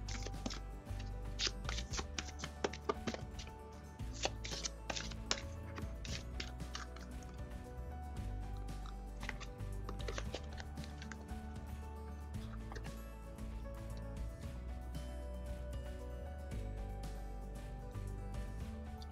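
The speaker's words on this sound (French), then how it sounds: "ce sont des grandes cartes, je vais dû les mélanger à la verticale" Large tarot cards shuffled vertically by hand, a run of quick papery riffles and soft slaps through the first half, thinning to quieter handling toward the end, close and steady.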